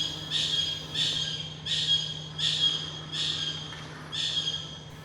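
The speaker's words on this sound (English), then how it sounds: "That was a white-collared kingfisher." White-collared kingfisher calling in a Malaysian mangrove at low tide over exposed mud: a series of six loud, harsh, evenly spaced squawking notes about every 0.7 seconds, with a steady low hum underneath.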